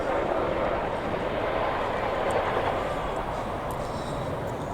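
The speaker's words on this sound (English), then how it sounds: "That's the aircraft now about to pull up to 30-degree wingover." A Boeing CH-47 Chinook twin-rotor military helicopter flies a display manoeuvre at an air show, its loud, steady engine and rotor roar filling the air without a break.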